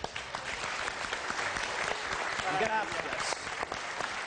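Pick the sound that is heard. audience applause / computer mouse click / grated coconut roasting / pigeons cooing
audience applause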